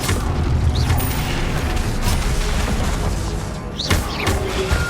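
Fire spell cast in Hogwarts Legacy, a dense roaring whoosh with low booming rumble throughout, sharp bright flares near the start and again around four seconds, loud and continuous with no voices.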